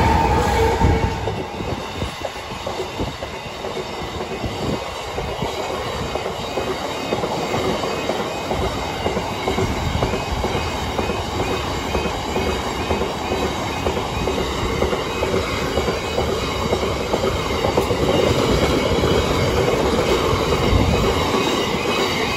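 A Maritime intermodal freight train rolls past Kettleby level crossing, bound for Immingham, a loud, continuous rumble of wagons with rhythmic wheel clatter and occasional squeal, steady and close throughout.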